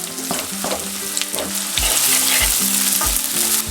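Onions sizzle loudly in hot oil in a pan with garlic, hing and ginger for a traditional Himachali dal masala, a steady dense fry broken by a few stirring scrapes and clinks.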